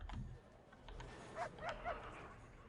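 Guard dogs in the prison-management game Prison Architect let out three short yips over a low, noisy ambient background, moderately faint and evenly spaced.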